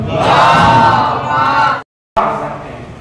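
A large gathering loudly chanting the salawat slogan in unison, a sustained roaring group voice that cuts to silence briefly, then resumes more softly.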